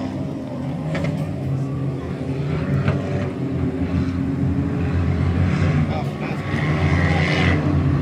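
Four-cylinder race cars idle and rumble together at Valley Raceway before a heat race's green flag, a steady low engine drone with occasional revs rising over it, continuous across the whole stretch.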